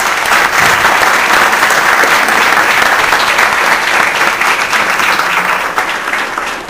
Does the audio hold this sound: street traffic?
no